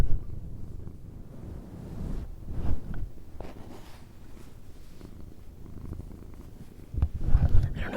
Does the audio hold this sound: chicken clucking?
no